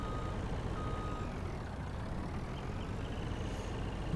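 A video-game truck reverses with a steady, low engine drone filling the scene while faint high reversing beeps sound intermittently in the background.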